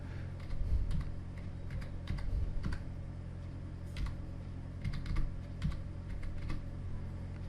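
Someone types on a computer keyboard, entering an IP address into a Windows hosts file in Notepad. Close, quiet clicks arrive in irregular bursts with short pauses over a steady low hum.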